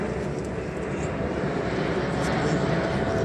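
An Airbus A380 double-deck airliner flies over the Le Bourget airshow, a steady broad jet roar that fills the whole clip at moderate loudness with no break.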